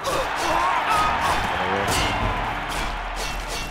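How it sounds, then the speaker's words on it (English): Arena crowd in the Oblivion video game roaring steadily through a fighter bout, a constant broad wash of cheering with people talking over it. "Dude, the freaking crowd is loud."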